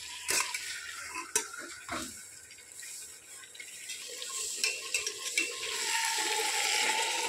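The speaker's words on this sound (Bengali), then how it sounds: "1 মিনিট 2 মিনিট মতো মাংসটাকে ভালোভাবে নাড়ব" Chicken pieces for a homestyle Bengali handi chicken are stirred in a pot, with scraping and clinking of a spoon against the metal and a soft sizzle underneath, in irregular strokes that grow into a steady frying hiss near the end.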